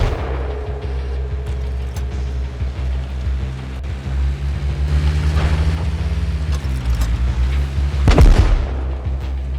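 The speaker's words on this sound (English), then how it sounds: "some guy was on his roof shooting rockets at me" Rockets exploding near a moving vehicle in the survival game Rust, with a steady engine drone underneath and a loud, close blast near the end.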